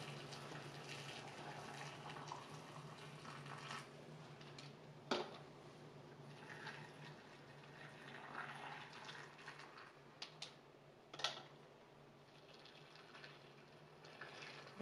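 Tap water runs steadily into a pressure canner, a continuous gushing fill with a couple of brief clanks partway through, fairly quiet and with no talking.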